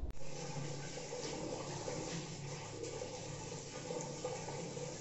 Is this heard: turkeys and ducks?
no